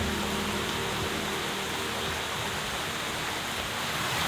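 Heavy monsoon rain pours steadily onto a leaky makeshift shelter on an island, a dense, constant hiss with no letup.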